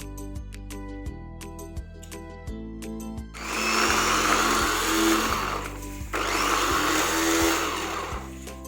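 A loud electric grinder coarsely grinding chopped garlic whirs in two bursts of a few seconds each, following a short stretch of quiet melodic music.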